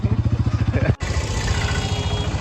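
A motorcycle engine idles with a steady, rhythmic low chugging, then cuts abruptly into a rougher, continuous engine rumble.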